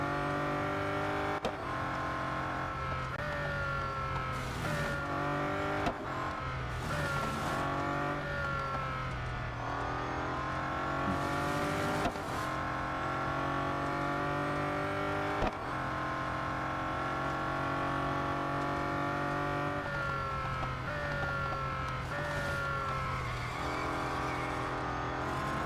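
Race car engines roar continuously in the Real Racing 3 mobile racing game, climbing in pitch through repeated gear shifts with brief tire noise, steady and loud for the whole stretch with no talk.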